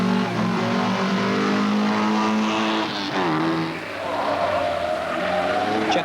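A Volvo rally car races hard around a circuit, its engine droning steadily with a rising pitch sweep midway and faint tire noise, loud and continuous throughout.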